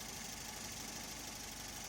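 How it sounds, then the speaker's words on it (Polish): A car engine runs at a steady idle right after starting during an alternator current test, a constant close mechanical hum with no speech. "Startuje motor."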